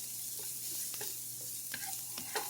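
Garlic fries in a pan with a soft, continuous sizzle, close and quiet, broken by a few light scrapes and clicks of stirring.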